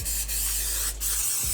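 A can of cooking spray coats a cake pan with a continuous close hiss that breaks off twice briefly and then resumes.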